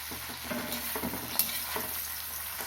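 Bitter gourd pieces sauté in a wok-style frying pan, a soft even sizzle broken by a few light stirring scrapes, with no voices.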